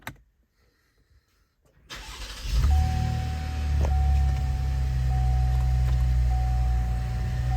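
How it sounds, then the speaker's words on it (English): A Chevy Traverse engine cranks and catches after a quiet pause, then settles into a steady, close idle with a faint high whine, and no talking is heard. "now we should just be able to start the vehicle as normal"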